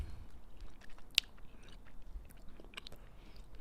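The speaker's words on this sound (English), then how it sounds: "but now I'm just chewing" Someone chews an edible close to the microphone, with soft moist chewing, a sharp crunch early on and a few quieter clicks over a low background.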